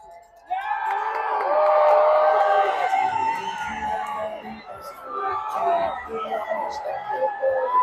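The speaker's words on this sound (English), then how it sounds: "Let's get ready to cheer them on." Spectators at a county fair pig race cheer and whoop loudly as the pigs run, a sustained crowd roar peaking early and then continuing with scattered shouts and voices.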